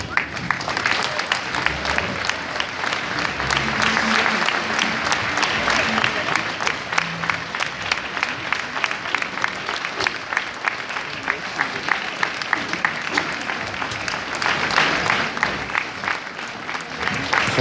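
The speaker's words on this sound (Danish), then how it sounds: "Lad os give Holbæk Musikskole en stor hånd" Sustained audience applause at a Copenhagen Phil concert, honouring a music school's performers: dense, steady clapping from a large crowd that continues without a break, loud and close.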